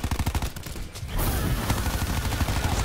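Rapid gunfire in Black Ops, dense repeated shots in a fast rhythm, loud and close, continuing after a brief gap without talk.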